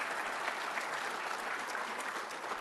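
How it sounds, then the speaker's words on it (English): Steady, dense applause from a graduation ceremony audience, a continuous wash of many hands clapping throughout. "A round of applause for all of you once again."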